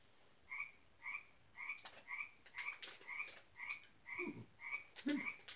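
Frogs croaking outdoors at night, a steady run of about ten evenly spaced, loud croaks with a slightly rasping, two-tone quality, with no voices over them.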